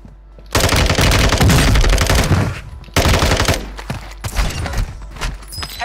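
Dense automatic gunfire from a first-person shooter game rattles loudly in long rapid bursts, pausing briefly before another sustained volley and then scattered shots.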